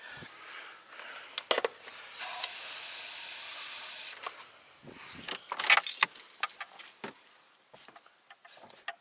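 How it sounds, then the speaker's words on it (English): A sustained hissing aerosol starting-fluid spray into a car's engine intake lasting about two seconds, with clinks, rattles and mechanical handling noises before and after it. "so we can spray Aerostar directly into the intake"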